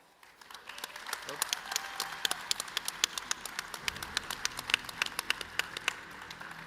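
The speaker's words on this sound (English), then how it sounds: "there is a cheering section out there" A conference audience at an Air Force Association warfare symposium applauds and cheers for an arriving speaker, with dense rapid clapping that builds and stays steady, crowd noise mixed through it.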